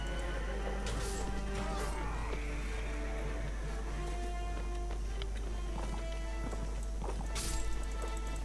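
Horses neighing and whinnying in the Mount & Blade Warband medieval battle game, several calls rising over a steady bed of game noise, with faint hoofbeat-like clatter in the background.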